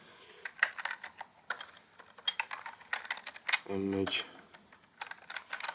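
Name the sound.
typing code on a computer keyboard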